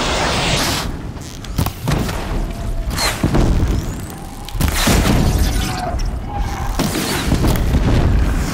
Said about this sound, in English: is about to explode if he hasn't already